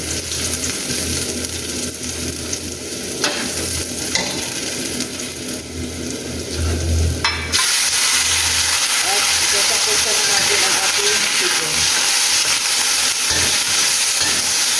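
Garlic fries in a pan with a continuous sizzling hiss that turns brighter and louder partway through, with low rumbles and faint background sounds.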